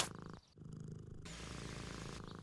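Cartoon cat in the Deponia video game purrs in a loud, close, continuous rumbling loop, briefly dipping near the half-second mark before resuming steadily.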